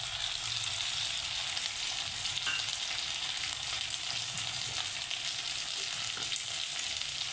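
Ginger-garlic paste and chilli paste fry in hot oil for a fish curry, giving a steady, dense sizzle that holds evenly throughout with no talking.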